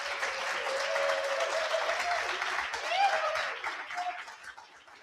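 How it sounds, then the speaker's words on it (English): Sustained applause from a large crowd at a tech bootcamp demo day, dense and steady throughout, with a few cheers and whoops rising above the clapping. "Let's give them a huge round of applause."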